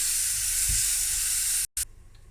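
Chili and dal roasting in a pan over slow to medium heat, a steady soft sizzle with faint stirring, then cutting off and dropping to near silence.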